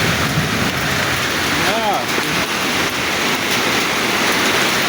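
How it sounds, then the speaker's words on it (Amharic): Large hailstones fall on a house in a dense, steady roar of impacts. The noise is loud and continuous, with a faint voice briefly audible beneath the downpour. "በጣም ትልልቅ በረዶ ነው።"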